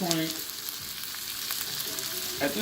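Ground beef and ground pork sizzle steadily in a pan with onions, bacon and garlic for Cajun dirty rice, a loud continuous hiss with faint stirring scrapes and no voices.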